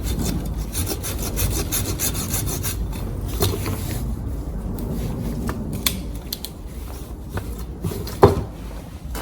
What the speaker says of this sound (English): Let's cut it with saw.